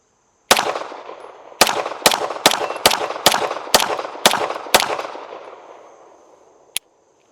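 Eight rapid, sharp gunshots from a Staccato HD P4.5 pistol fired at an outdoor range, each crack loud and close, spaced irregularly about half a second apart, with ringing decay and a final faint click.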